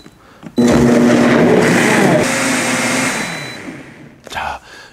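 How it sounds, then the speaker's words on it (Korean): A blender grinding tomatoes and water switches on abruptly, whirring loudly at a steady pitch before slowing and fading, followed by a short clatter at the end. "그리고 여기에서 이제 그 주스 가는 거 기능이 있거든요."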